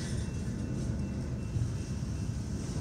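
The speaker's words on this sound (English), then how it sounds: "that was quite the train to see pull out." A steady, low rumble of a heavy CSX freight train pulling out nearby, hauled by ES44C4, 9-44CW and SD70 locomotives, continuous and droning without any voices.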